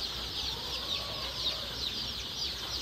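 Chicks in a poultry brooding shed keep up a dense, continuous chorus of high peeping. Many birds cheep at once at a steady moderate level, with no single call standing out.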